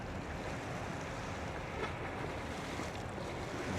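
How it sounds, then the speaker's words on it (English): A very large ship passes along the River Mersey, heard as a steady, broadband rumble mixed with water wash and wind buffeting the microphone, holding at an even level throughout with no voices. "That's one big ship."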